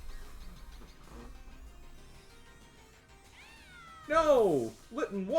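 Litten, the fire-type cat Pokémon, lets out a loud, bending cry in Pokémon Violet: The Indigo Disk, bursting in near the end after quieter game sounds and faint talk.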